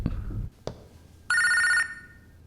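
A telephone rings once in a quiet indoor room, a bright electronic trill with sharp harmonics lasting about half a second, following a brief low rumble and a faint click.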